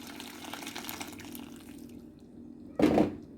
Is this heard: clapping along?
no